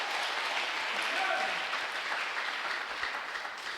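A church congregation cheering and acclaiming the Lord, a sustained wash of crowd applause and voices at moderate distance, holding steady for a few seconds before easing slightly.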